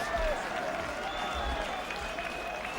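A 1995 rugby match crowd applauds a score at Orrell versus Wasps, sustained distant clapping and cheering from the open terrace side, a broad steady wash with a commentator-free stretch.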